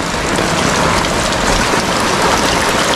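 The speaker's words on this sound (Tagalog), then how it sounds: "Ito ulan talaga oh." Heavy rain pours down in a dense, steady hiss with no let-up, loud and close, and no voices are heard.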